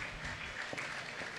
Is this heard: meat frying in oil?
no